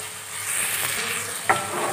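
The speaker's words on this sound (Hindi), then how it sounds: "मसालों को अच्छे से भुने" Chana masala spices roast in a pan for palak chole with a constant soft sizzle, broken once by a brief scrape of a spoon.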